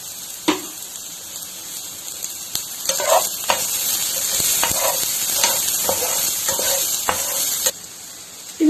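Onion sautéing with a little salt in a pan for okra masala, a steady close sizzle broken by several soft stirring scrapes and taps, with no talking.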